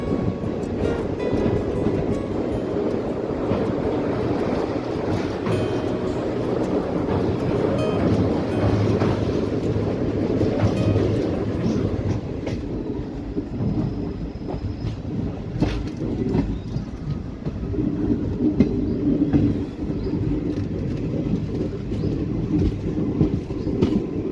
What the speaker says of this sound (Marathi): लातूरपासून 32 किलोमीटरचा प्रवास पूर्ण करत आपली पंढरपूर निजामाबाद एक्सप्रेस पोहोचली आहे लातूर रोड रेल्वे